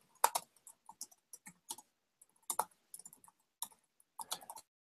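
A computer keyboard is typed on in short, irregular bursts of crisp, close clicks with quiet gaps between them, in the middle of an online lecture session.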